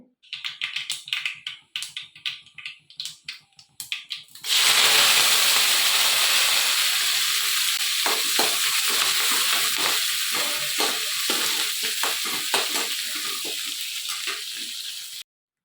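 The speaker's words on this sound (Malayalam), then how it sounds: "ഉള്ളിയും കറിവേപ്പിലയും വറ്റൽമുളകും കൂടി ഇട്ടിട്ട് മൂപ്പിച്ചെടുക്കുവാണ്" Onions, curry leaves and dried red chillies frying in hot oil, a loud steady sizzle that starts abruptly after a few seconds of lighter crackling and keeps going with scattered pops and stirring clatter.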